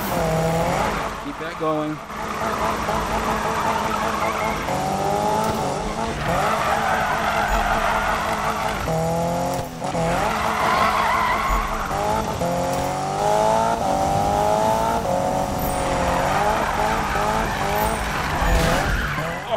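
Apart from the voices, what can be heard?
handbrake drift tire squeal in Need For Speed 2015 video game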